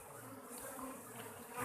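Wild bees buzzing during a wild honey harvest, a faint, steady insect drone that wavers slightly in pitch, alone with no talk.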